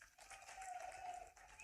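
A crowd at an outdoor public rally in Nepanagar, Burhanpur claps together in a brief burst of dense applause, steady throughout and fairly distant.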